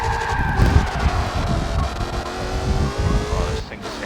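A Porsche engine in a racing video game screams at high revs, its tone climbing and shifting through gears for several seconds, loud and close, before cutting off near the end.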